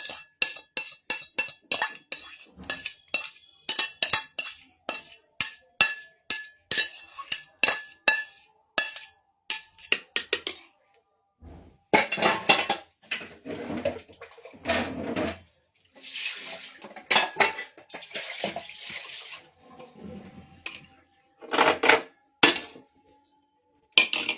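A frying pan and dishes clatter in a kitchen, with sharp clinks and knocks coming in quick irregular runs, then heavier scraping and rattling with brief pauses.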